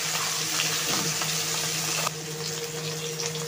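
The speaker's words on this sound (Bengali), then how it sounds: "বাকিগুলো সেম প্রসেসে ভেজে নিই।" Pieces of snakehead fish fry in hot oil in a kadai, giving a continuous loud hiss and crackle that eases slightly partway through, with no talking.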